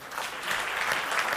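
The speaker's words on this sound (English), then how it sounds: "A round of applause, guys." Applause at an MOU signing event between Toronto and Film City, a steady wash of clapping from a crowd, moderately loud and continuous throughout.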